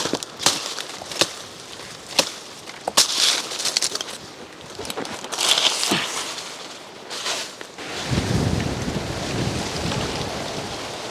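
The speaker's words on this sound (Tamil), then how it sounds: "காற்று வேறு அடிக்குது, அதான் கொஞ்சம் பயமாக இருக்குது." Wind gusts roughly around the top of a coconut tree in a steady, loud broadband rush, broken by sharp knocks and rustles in the first half and a deeper, rumbling surge toward the end.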